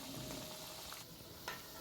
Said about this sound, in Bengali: তো আমরা লাল করে এখন ভেজে নিচ্ছি